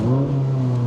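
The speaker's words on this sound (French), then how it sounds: "directement tu as envie d'entendre ce V8" Ferrari 458 V8 engine holding a steady, close, loud rev with a strong low drone, no one talking over it.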